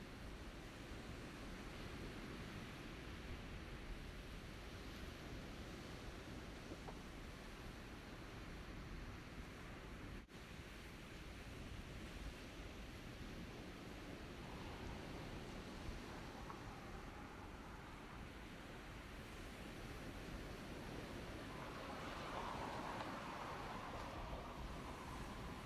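Steady broadband wash of ocean surf breaking on a beach, heard continuously for the whole stretch at moderate level with no distinct individual wave crashes, in an open outdoor setting beside a rocket launch site.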